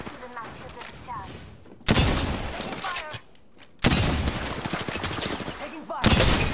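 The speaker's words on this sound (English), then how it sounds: "Attention. I'm spotted. Taking fire." Rapid bursts of video game gunfire hit the player while taking fire, loud and dense, breaking off for brief pauses between volleys, with game voice callouts faintly under the shots.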